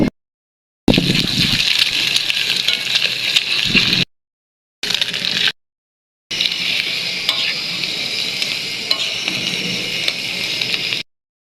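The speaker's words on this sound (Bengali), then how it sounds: "ভাজা ভাজা করে নিতেছি" Eggs sizzle and fry in a pan while being stirred, part of cooking noodles with tomato and green chilli. The loud crackling hiss comes in three bursts separated by short silent gaps.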